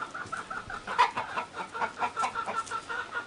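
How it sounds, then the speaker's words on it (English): A Marans hen clucks repeatedly in short, fairly quiet bursts, with bird calls scattered over a low outdoor background. "Okay, so that's our marron hen"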